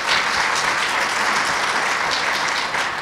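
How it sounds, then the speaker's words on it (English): Dense, sustained applause from a conference audience fills the room at an even level, with no pauses. "we can give her a round of applause for that."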